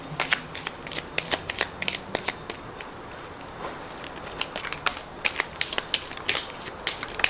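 A deck of tarot cards is shuffled by hand with long fingernails, giving repeated quick riffling and snapping bursts in an uneven rhythm, close and fairly loud, with no talking.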